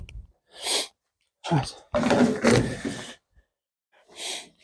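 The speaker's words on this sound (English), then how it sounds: "I must apologise for all my sniffing." A man sniffs and sneezes in bursts, with sharp nasal snorts and a forceful sneeze separated by silence, close and fairly loud, with a brief word spoken.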